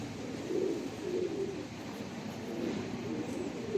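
Low, throaty pigeon coos repeat in a loose rhythm over a constant ambient hum, a few soft rolling calls at moderate distance.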